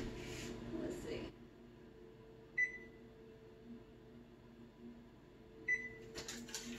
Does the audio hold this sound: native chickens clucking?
no